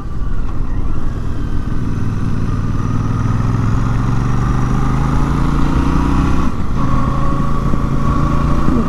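A Royal Enfield Super Meteor motorcycle engine at Interlagos circuit, loud and close, droning steadily as it rises in pitch under acceleration, with a brief dip before climbing again, no talk.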